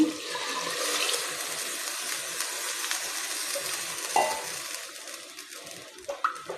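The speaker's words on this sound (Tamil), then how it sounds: "இப்போ இந்த தண்ணியை நம்ம உள்ளே ஊற்றி கொதிக்க வச்சிடலாங்க" Water poured into a clay pot set to boil while cooking tomato chops, a steady hissing splash running throughout at moderate level, with a few louder knocks and clinks near the end and no talking.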